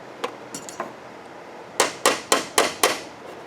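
New stud being fitted into a Hayward Navigator pool cleaner, three light taps followed by five louder, evenly spaced sharp hammer-like knocks, close, no talk.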